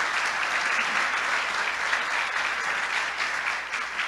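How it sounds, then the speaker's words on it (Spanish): Steady, loud audience applause fills a church service broadcast from Acapulco, a dense wash of clapping sustained for several seconds with no talk over it. "Vamos a darle un fuerte aplauso a toda la audiencia."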